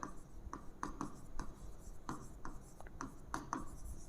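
Chalk or marker writing on a board during a physics lecture on Gauss's law: steady scratchy strokes and taps in an irregular rhythm, faint and close, over room hiss.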